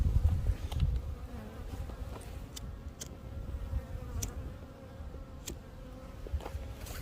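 Honeybees hum steadily at a hive on a cool, breezy day, a low continuous buzz close by, with occasional faint clicks and taps over the drone.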